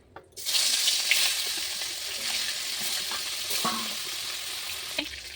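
Katla fish pieces frying in salted oil in a wok, a loud, steady close sizzle that bursts in after a brief quiet start, with a few small clinks and no talking.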